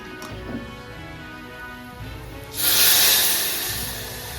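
Hot water is poured into frying masala for a fish curry, and a sudden loud hiss of steam and sizzle bursts up partway through, then slowly fades, following a quieter stretch.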